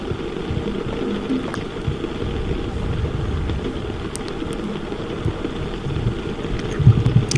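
Rain falls steadily in a garden, a dense, even patter with scattered sharper drops and small ticks throughout, close and continuous with no voices.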